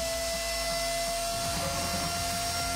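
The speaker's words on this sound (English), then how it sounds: "once the spindle is running and in position" CNC machine spindle running under Mach3 control, a steady, loud, high-pitched whine with an even mechanical hum that holds without a break for the whole stretch.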